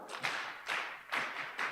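Several bursts of clapping from an audience at an integrity seminar at Bishop Stuart University, coming in short uneven waves with brief gaps between them, fairly quiet and without voices.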